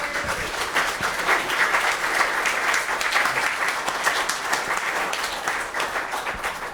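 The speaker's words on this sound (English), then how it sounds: "Could we have a round of applause?" At a talk event, a room full of people gives a sustained round of applause, even and fairly close, with no speech over it.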